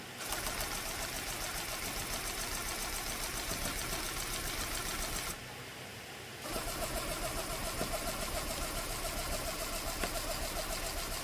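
A tufting machine set to its lowest speed runs with a steady, continuous mechanical whir that dips briefly partway through before resuming at the same level.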